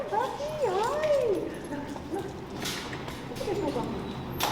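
A young dog named Gus whimpers and yips during an obedience training session, with high, rising and falling whines early on and fainter yelps later over outdoor background noise.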